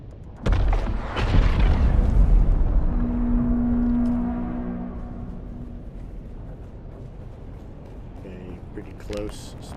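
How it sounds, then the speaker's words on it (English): A spice explosion close by in the desert of Dune Awakening, a heavy deep boom that swells into a long rumbling roar and slowly fades over several seconds. "Close spice explosion."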